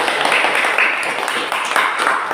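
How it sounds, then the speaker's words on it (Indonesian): Classroom audience clapping for a student presentation group, a brisk, close burst of hand claps with a few louder peaks, lasting the full stretch. "kita memberikan tepuk tangan yang meriah buat kelompok 1"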